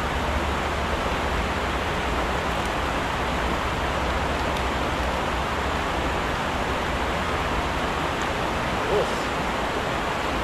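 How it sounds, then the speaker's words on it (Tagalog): Strong river current rushing downstream at a fishing spot, a steady broadband roar of churning water that fills the whole clip, loud and unbroken, with no voices. "Lakas ng agos pa baba doon"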